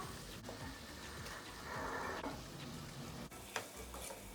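Peppers, onions and meat frying in a pan, a soft steady sizzle with faint stirring and a few light clinks, quiet and close with no talk.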